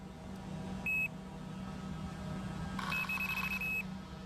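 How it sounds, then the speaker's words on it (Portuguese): Electronic bite alarms on two fishing rods, set beside a river, give one short, high beep and then a longer run of rapid beeps over a steady low background hum. "Minhas duas varas estão equipadas com um alarme eletrônico preparado para disparar se algo tentar agarrar a isca."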